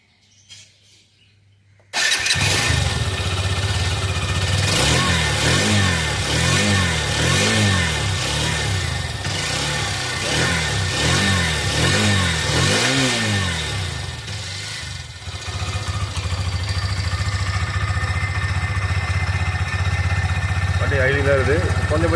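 A Hero Xtreme 125 motorcycle with an oil pump problem starts up and settles into a steady idle around 1300 to 1400 RPM, a close, continuous rumbling engine note with small rhythmic surges and brief revs.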